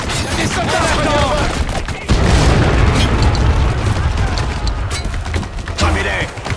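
Heavy mortar blasts in the Spec Ops video game land in dense, rumbling booms over a constant wash of battle noise, with a sharp loud burst near the two-second mark and faint game voices in the mix.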